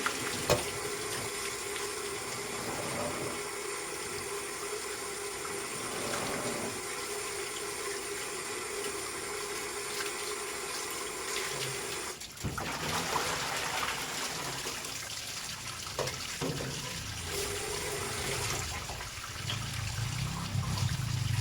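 Steady running water from a tap rinses raw meat in a home kitchen, a continuous splashing flow with a shift in tone partway through as the meat is moved under the stream.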